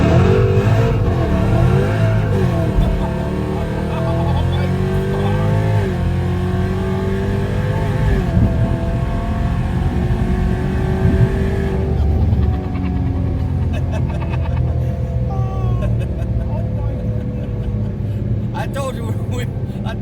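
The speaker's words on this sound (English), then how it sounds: "told you we were gonna burn some rubber on the way out" Car launching hard from a dig with tires spinning, a loud revving engine with rising and falling harmonic sweeps over roughly twenty seconds, close up, with people talking throughout.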